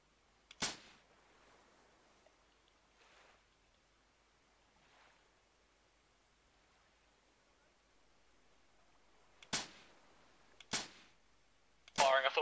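Gunfire in the Arma 3 Vietnam video game: a sharp shot near the start, then long quiet, then three more crisp single reports spaced about a second apart near the end, moderately loud against a faint background.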